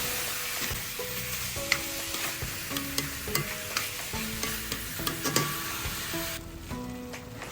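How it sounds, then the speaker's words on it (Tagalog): Spare ribs sauté in a hot pan until browned, giving a steady sizzle broken by the clatter of stirring, with soft background music playing underneath. "igisa lang natin yan no, hanggang sa mag-brown yung ating karne"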